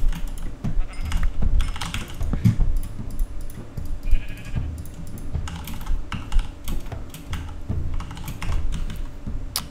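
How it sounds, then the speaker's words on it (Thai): Sheep bleat in the Minecraft video game during a UHC Run match. The short bleats sound under constant, busy computer keyboard clatter and mouse clicks. "ผมว่าแกะมันน่าจะให้สติงใช่ไหม"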